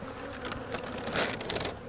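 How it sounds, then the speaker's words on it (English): Honeybees from a tiny, near-dead swarm being shaken into another hive, a close, fluctuating buzz with brief rustling bursts. "just shake those bees down in"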